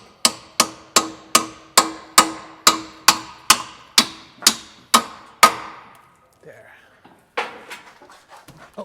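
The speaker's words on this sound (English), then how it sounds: "We're gonna hammer it a bit." A rapid series of sharp metallic hammer strikes on the rear suspension of a 2010 Toyota 4Runner while fitting shocks, about a dozen in steady rhythm, then a pause and a few lighter, irregular taps.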